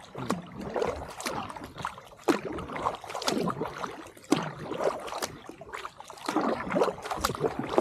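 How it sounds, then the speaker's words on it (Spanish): Water murmuring around a kayak paddled alone on El Atazar reservoir in early autumn, soft close lapping and trickling with recurring paddle splashes and drips in an uneven rhythm. "escuchando el susurro del agua"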